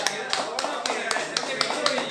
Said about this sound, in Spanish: Denle el aplauso a la muchacha